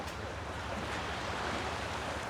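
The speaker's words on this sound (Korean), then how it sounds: "파도 소리 들리시죠?" Calm sea waves wash against the shore beside a long wooden pier before dawn, a steady, continuous broadband roar with no distinct breaks and no voices.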